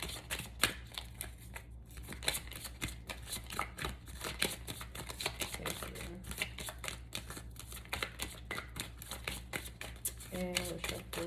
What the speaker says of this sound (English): we'll shuffle one more time here